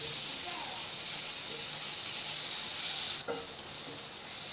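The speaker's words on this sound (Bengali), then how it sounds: "এই মশলাটাকে আমি এবার একটু ভালো করে নাড়িয়ে চাড়িয়ে রান্নাটা মিডিয়াম টু লো ফ্লেমে দিয়ে করবেন" Spice paste and onions frying in a pan over a medium-to-low flame while being stirred, a steady close sizzle and hiss with a few faint scraping clinks toward the end.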